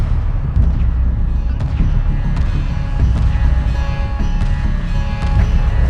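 Weapons fire in a Homeworld Remastered space battle, a constant loud rumble with repeated faint sharp pops scattered through it and a low steady drone underneath.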